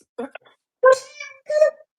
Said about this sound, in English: Bengal cats are very vocal too.